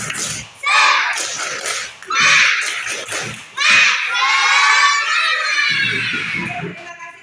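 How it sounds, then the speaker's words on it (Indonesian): Classroom of children doing a rhythmic spirit clap, loud group claps and shouted chanting in quick bursts, with a teacher's voice in between. "Kita tepuk semangat dulu satu kali ya. Satu kali tepuk semangat."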